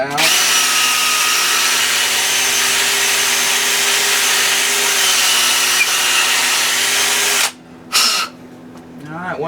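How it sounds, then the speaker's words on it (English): A power drill drills out a custom fishing float with a loud, sustained whine that holds steady for several seconds, then cuts off briefly twice before starting up again. "Drill that out."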